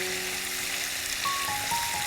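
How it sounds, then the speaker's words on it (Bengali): Chicken pieces frying golden brown in oil for lemon pepper chicken, heard as a steady, close, even sizzle with no voices. "সব চিকেনগুলোই প্রায় 2 পিঠ ভাজা হয়ে গেছে গোল্ডেন করে, ব্রাউন করে"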